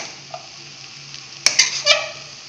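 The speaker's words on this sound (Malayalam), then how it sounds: "ഇതിലേക്ക് ഞാൻ നൂഡിൽസ് ഇട്ട് കൊടുത്തിട്ടുണ്ട് നന്നായി ഇളക്കി യോജിപ്പിക്കണം" Egg noodles tossed in a frying pan with a faint sizzle underneath and a few sharp scrapes and clinks of the spatula near the end, close by with no voice.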